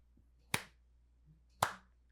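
Two sharp, isolated hand claps sound about a second apart, short and fairly quiet against near silence.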